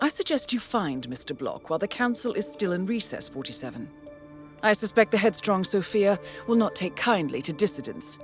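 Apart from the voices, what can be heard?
No everyday noises stand out.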